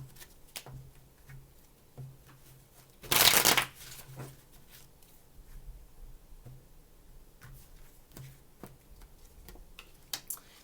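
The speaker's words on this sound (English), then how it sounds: "Three shuffles." Tarot cards shuffled in a quick riffle burst of about half a second, loud and close, set in an otherwise quiet room with faint ticks before and after.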